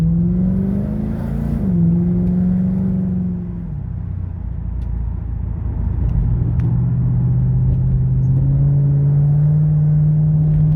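A Ford BA Falcon XR8's 5.4 V8 breathing through an aftermarket big mouth air intake drones loud and close, holding a steady throaty note, dipping briefly, then pulling up into a sustained rev.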